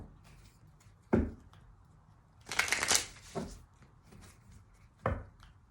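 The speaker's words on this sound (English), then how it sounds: "as I'm shuffling, or as I cut the deck" Tarot cards shuffled and cut by hand, with a few short riffling bursts and one longer flurry of card slaps, close and crisp against a quiet room.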